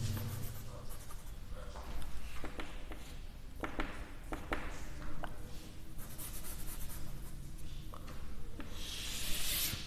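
A pencil drawing lines on graph paper while sketching a linear inequality graph, giving steady close scratching and rubbing strokes with brief taps, continuous across the clip with no talking.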